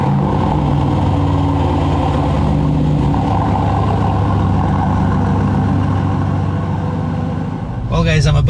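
A 2021 Aston Martin DB11 engine runs with a steady, loud low rumble throughout, ending in a brief burst of different noise near the close.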